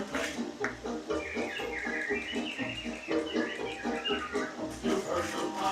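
Busy chirping and warbling from many animatronic birds in Disneyland's Enchanted Tiki Room over a steady musical background, continuous and fairly loud throughout.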